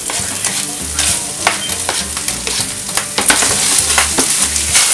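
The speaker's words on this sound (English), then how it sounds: "I'm going to go ahead and put the onion and bell pepper in because this is already browned" Onion and bell pepper sizzling loudly in a pan with browned ground meat for sloppy joes, close and steady, with repeated scraping stirs through the frying.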